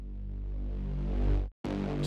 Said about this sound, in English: this one is just the main bass